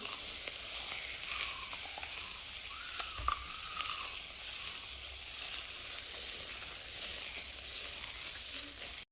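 A cold cosmetic skincare spray fizzes on the skin, giving a continuous soft crackle and hiss like sizzling, steady and close throughout.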